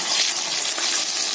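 Green banana (kaanchkola) slices frying in hot oil, a dense close-up sizzle that hisses steadily without pause.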